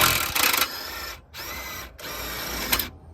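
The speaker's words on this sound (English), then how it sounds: "I can go ahead and put the impact gun on there and get it the rest of the way off" A pneumatic impact gun spins a large seized rear toe rod bolt loose, giving two loud sustained rattling bursts separated by a short pause, close up with no talking.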